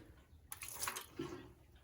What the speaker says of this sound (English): So I'm going to just pour a little solvent out into this tray.